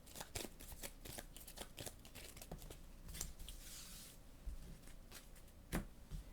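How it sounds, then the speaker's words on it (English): Cards being shuffled back into a deck during a solo Leviathan Wilds board game session, a series of close, crisp riffling snaps and slides at a low level. "let's use our token to shuffle some cards back in"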